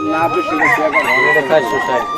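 Chickens clucking and squawking close by at a rural poultry market in Bangladesh, a dense, busy chorus of fowl calls filling the whole stretch with little pause.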